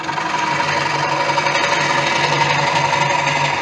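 Wood lathe running while a gouge rides the bevel to hollow out a wooden bowl, giving a steady, loud continuous hum and whir with a rough cutting hiss throughout.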